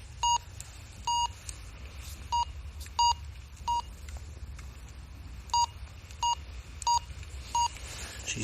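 A metal detector sweeping at dawn gives a series of short, clear electronic beeps in an uneven rhythm, about a dozen tones over a low background rumble.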